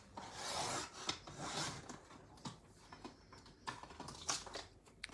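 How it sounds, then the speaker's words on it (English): A paper trimmer blade slides along a strip of paper, giving a close, dry rasping scrape in several short strokes with small clicks between them, moderately quiet and with no talk. "I'm going to use my trimmer again because I need to get the right measurement"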